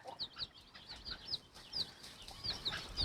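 A Ligorin hen scratching about in the soil with her chicks gives soft, repeated clucks, while high chick peeps come in short bursts; faint and close, with no talk.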